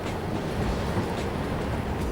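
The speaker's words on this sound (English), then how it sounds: "Sorry about the wind noise." Steady, rumbling wind buffeting a microphone, a broad blustery roar with no other clear sounds.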